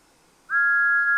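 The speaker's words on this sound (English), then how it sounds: "Thomas gave one sad toot of his whistle and slowly pulled away." A single sustained steam whistle toot from Thomas the Tank Engine, a clear steady tone that begins after a short quiet pause and holds to the end, loud and close.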